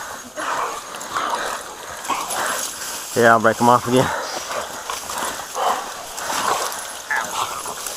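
Bulldogs bay at a boar held in water, sharp bursts of barking and yipping in a tight cluster midway, with a voice talking over the scene.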